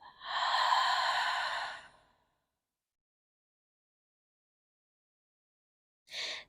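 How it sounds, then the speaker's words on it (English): A long, breathy exhale out through the mouth during a stand-up paddleboard vinyasa yoga flow, soft and close for about two seconds, followed by silence and the start of another brief breath. "One more big breath in. And then nice long exhale out the mouth."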